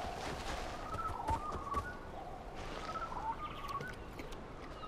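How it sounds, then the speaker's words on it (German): An odd-sounding bird in the Far Cry Primal wilderness gives a few short, warbling chirps in two quick bursts over a soft outdoor ambience, fairly faint, with no voices. "Das ist ja ein komischer Vogel hier."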